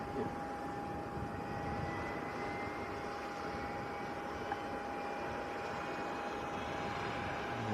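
A Jet2 airliner's engine starts up after an engine change at a Leeds Bradford Airport hangar, heard as a steady, broad roar with a thin sustained whine, moderately distant and continuous throughout.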